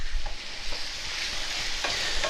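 Bacon frying in a pan for potato salad, a steady loud sizzle with stirring and scraping as the pieces are moved around and broken up.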